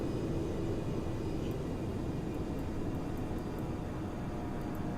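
A light aircraft engine drones steadily after being throttled back toward idle, a continuous broadband roar filling the cabin at even loudness without any talk over it.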